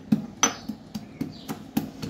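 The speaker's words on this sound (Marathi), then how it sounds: "लसूण तुम्हाला असं बारीक मस्त ठेचून घ्यायचं आहे।" Garlic cloves are crushed finely with repeated pounding strokes, about eight sharp, moderately loud knocks at an uneven, fairly quick pace, with no talking.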